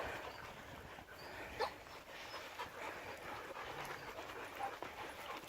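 A dog out on a morning walk whimpers, pants and lets out an occasional short yip, heard quietly and at some distance over a steady outdoor background.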